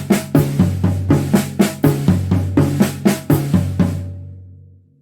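A slow drum kit pattern travels around the snare drum, small tom and floor tom: about a dozen steady, loud strokes with resonant low ringing, letting the last tones fade out alone.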